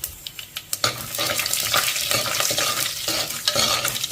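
Urad dal, chana dal, coriander seeds, cumin and fenugreek fry in hot oil for a tempering, starting with a few sharp taps and scrapes, then settling into a loud, close, continuous sizzle with stirring and no talk.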